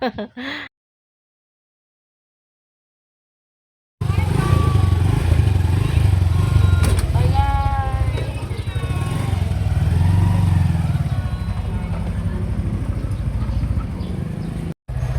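After a few seconds of silence, a motorcycle engine idles loudly and close with a steady rumble, voices talking over it.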